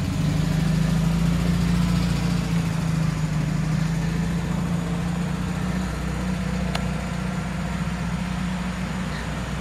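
A VW Beetle engine idles with a steady low rumble, then eases off as the car pulls away, fading slightly toward the end.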